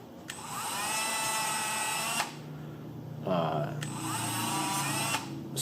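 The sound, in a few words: abrasive Scotch-Brite style wheel grinding a piston ring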